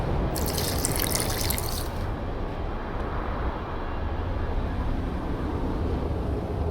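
Water poured into a flask during potion-making in The Witcher 2, a steady close trickle and splash that runs continuously throughout.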